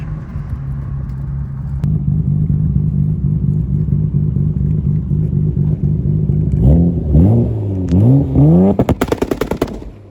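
A Nissan Skyline R34 GTR with a custom titanium exhaust idles with a loud, lumpy burble, then revs in a few rising pulls that end in a rapid string of sharp crackles and pops.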